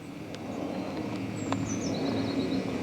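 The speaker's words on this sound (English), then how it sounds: "the birds are singing and twerping along" Birds chirp outdoors near a patio in England, a few faint, high twittering calls rising in the second half over a steady background hiss.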